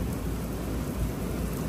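Heavy rain pours and thunder rumbles at a racetrack during a storm, a dense, continuous roar of water with a low rolling undertone and no voices.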